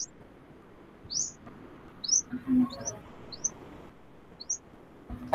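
A small bird chirps nearby, giving a series of about six short, high, thin tweets spaced roughly half a second to a second apart over quiet room noise, with faint low thumps and rustles in between.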